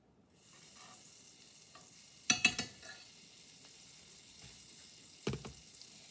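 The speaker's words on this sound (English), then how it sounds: "We're going to move it around the pan to get the pan nicely buttered." Butter sizzles in a hot frying pan while being swirled around to coat it for French toast, a soft steady fizz with a few sharper clattering scrapes of the pan in the middle and near the end.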